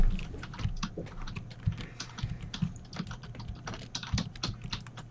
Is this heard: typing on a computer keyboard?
yes